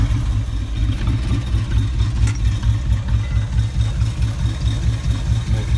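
A Chevy truck's heavy engine idles loudly with a steady, throbbing low rumble close by, running evenly throughout without a start-up.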